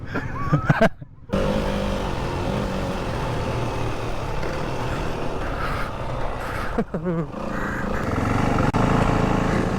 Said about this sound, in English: Then we all got on the bikes and got to rip around a coned off kind of track area.